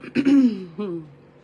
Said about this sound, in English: I want to clear my throat, but it's very thick